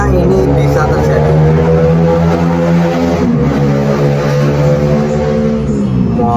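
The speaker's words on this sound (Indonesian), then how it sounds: "Ini getar terus nih, vibranya main ya." A faulty Oppo A54 phone's vibration motor, left stuck on after its power-button flex cable was replaced, drones in a loud, steady buzz that never pauses, close up with a rich harmonic hum.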